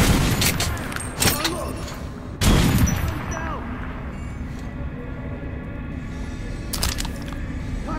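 Gunfire in the shooter Metro: Last Light, aimed at an armored training dummy: several sharp, loud shots spaced out over a few seconds, each with a booming, echoing tail over a low background rumble.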